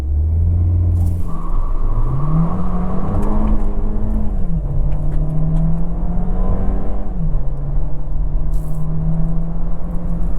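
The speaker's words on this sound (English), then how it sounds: "And then you just go brake, gas, and just take off." A 2024 Volkswagen Jetta SEL with a turbo engine launches hard in sport mode with traction control off, engine note loud and close as it revs up, then climbs steadily through the gears with brief shift dips, no talking.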